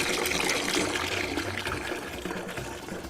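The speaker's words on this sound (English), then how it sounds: "Fair trade beans paid for this water pump, providing clean, fresh drinking water for everyone" Water pours from a village water pump supplying drinking water, a steady splashing trickle that stays close and fairly constant, easing off slightly toward the end, with no talking.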